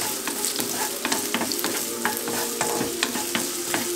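Chopped onion fries in sesame oil in a pan, giving a loud, steady, close sizzle with scattered crackles and the scrape of stirring.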